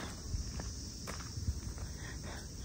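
Footsteps on a climb at the Japanese Imperial Gardens in summer, a few soft, irregular steps against steady outdoor background hiss with insect-like buzzing.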